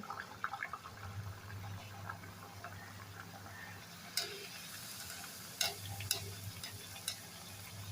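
Malvani kombdi vade, Konkan-style chicken vada fritters, sizzle steadily in hot oil, with soft bubbling and a few sharp ticks and clinks of a utensil; a faint voice is heard briefly.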